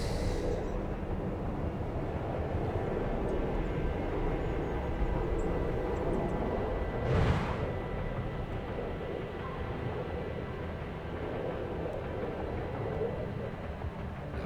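A military airplane in the Broken Arrow strategy game drones steadily with a low engine rumble, a brief whooshing swell passing around the middle, fairly loud and continuous with no talk.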